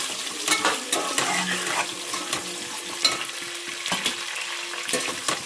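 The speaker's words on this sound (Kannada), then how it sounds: "ಈರುಳ್ಳಿ ನೋಡು, ಹಾಕಿ ಇದು ಸ್ವಲ್ಪ ಚೆನ್ನಾಗಿ ಬೇಯಬೇಕು" Onions and curry leaves frying in a pan give a close, steady sizzle, with repeated stirring scrapes and a faint hum underneath.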